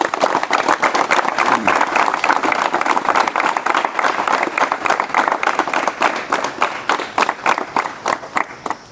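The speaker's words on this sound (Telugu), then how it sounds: "మీరందరూ కూడా క్లాప్స్ కొట్టాల్సిందిగా కోరుతున్నాం" Audience applause, a dense crowd of clapping hands that stays strong for several seconds, then thins into scattered, separate claps toward the end.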